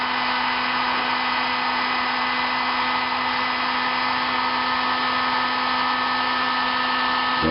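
An electric heater blows onto a lead-zinc alum battery solution, giving a steady whirring hum with a constant motor tone that runs unchanged for several seconds at close range.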